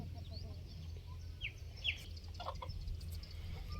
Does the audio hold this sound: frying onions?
no